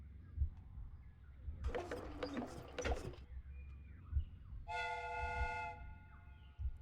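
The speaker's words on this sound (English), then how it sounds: "The steam whistle is ready to be used." A steam whistle on a replica train in a Sherlock Holmes video game sounds a steady, chord-like blast for about a second, following a burst of hissing, clattering machinery over a low rumbling background.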